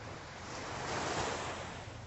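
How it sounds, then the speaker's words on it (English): Calm Atlantic surf at Deerfield Beach, Florida, washes in as a soft continuous rush that swells slightly in the middle, with faint wind noise and no voices. "Calm waves."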